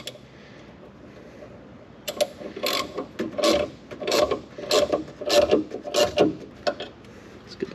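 A ratchet tightening a bolt on a Jeep XJ during a lift install, a close series of about a dozen rhythmic clicking strokes after a quiet start.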